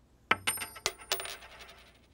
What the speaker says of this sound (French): Voici quelques pièces de monnaie de différentes valeurs.